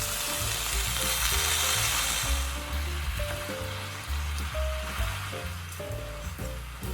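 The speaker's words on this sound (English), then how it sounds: "Add the cut cabbage." Chopped cabbage fries hard in a hot pan for niku yasai ramen, a loud continuous sizzle with shifting hiss and low rumbling stirring knocks running throughout, no voices.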